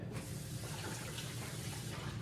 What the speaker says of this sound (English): whenever I do an onion, I rinse it off with cold water right away